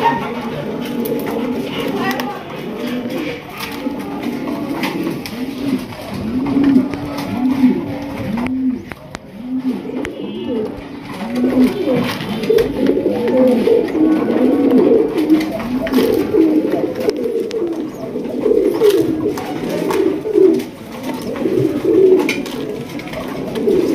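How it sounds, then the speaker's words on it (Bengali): Hungarian Budapest pigeons coo in repeated low, throaty bubbling calls that overlap one another at close range, continuing steadily while people talk nearby. "মাশাআল্লাহ হাঙ্গেরিয়ান বুদাপেস্ট কবুতর"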